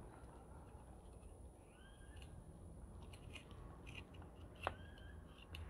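Pruning shears snipping through an areca palm seedling clump to divide it, a few faint, crisp clicks and snips, one sharper cut standing out, over quiet outdoor background with birds.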